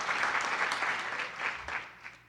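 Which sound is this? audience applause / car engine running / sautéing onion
audience applause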